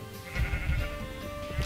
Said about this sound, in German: Unsere Schafe